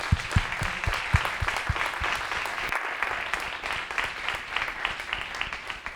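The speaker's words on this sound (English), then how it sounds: "Please, another round of applause for Antonio." Sustained applause from an online talk audience after a presentation, a dense steady wash of many hands clapping with a few sharper close claps standing out.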